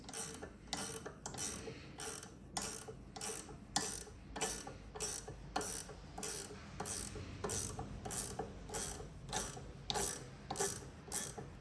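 Steady ratchet clicking from a wrench loosening a fastener on an LS engine's valve train, a rapid even run of mechanical pawl ticks heard close and alone for several seconds.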